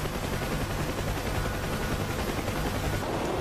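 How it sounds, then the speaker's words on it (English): Door gun of a UH-1H Huey helicopter in the DCS World combat flight game, rattling in continuous rapid automatic fire with a dense, unbroken roar that stays loud and steady throughout. "That's co-pilot firing."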